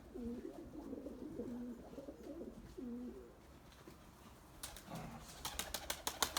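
Pet pigeons cooing in low repeated phrases, fairly close, followed by a brief burst of wing flapping as the birds take off.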